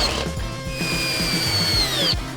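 A power drill drives screws into a wooden board strut for a floating house platform, its motor whining in close, repeated short bursts with a rising pitch as each screw bites into the wood.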